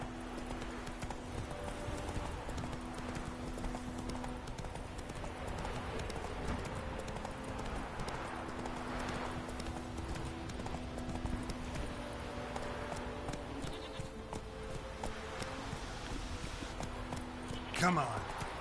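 Roach, the horse in Witcher 3, gallops with a continuous rapid clopping of hooves, accompanied by game music and some talking.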